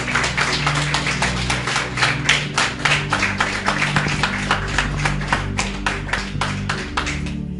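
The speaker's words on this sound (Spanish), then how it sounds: "¿Qué tal si damos un aplauso al Señor?" A church congregation claps together in a steady rhythmic beat, evenly spaced sharp claps repeating about three times per second for several seconds, with a sustained low musical tone underneath.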